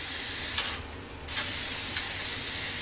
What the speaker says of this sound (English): You're going to spray your pan.